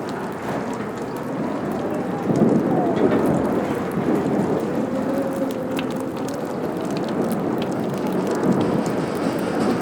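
Steady heavy thunderstorm rain hisses throughout a scene in the video game Life Is Strange, with low rumbling thunder swelling around the middle, continuous and fairly loud with no voices.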